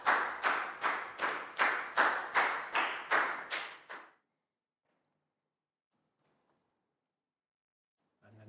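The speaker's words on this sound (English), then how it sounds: "big round of applause" A Year 4 class claps for a student in a classroom: about eight to ten loud, even, rhythmic group claps over four seconds, then silence, with a faint sound starting at the very end.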